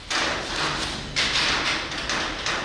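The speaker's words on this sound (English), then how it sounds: "roll-up door banging because it's super windy today" A roll-up door bangs and rattles in strong wind, giving a couple of broad, noisy thumping surges over a steady background rush.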